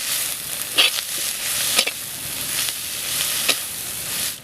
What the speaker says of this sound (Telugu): ఒక రెండు మూడు నిమిషాలు రొయ్యల్ని వేగనిద్దాం